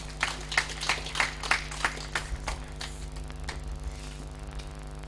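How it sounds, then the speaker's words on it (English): Scattered applause from an audience at a book launch, a short burst of claps that thins out and fades over a few seconds, with a steady electrical hum underneath. "A round of applause for him."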